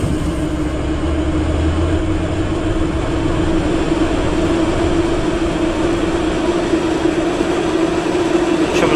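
Moscow metro train ride in Roblox, aboard automatic E-type metro cars: a continuous loud rolling rumble and hum of the moving carriage, steady from start to finish with no voices.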